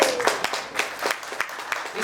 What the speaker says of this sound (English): Let's give it a nice applause.